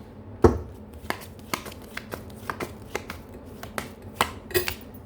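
Tarot cards fall and slap down in a quick scattered series of light, crisp clicks and flutters, close and fairly quiet, with no voices.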